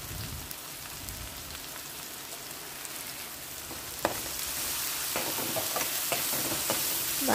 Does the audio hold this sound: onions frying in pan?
yes